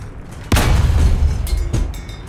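A T-26E tank's cannon fires in War Thunder ground realistic combat: one loud, close boom with a long rumbling tail, followed by a fainter second shot about a second later, with no talking.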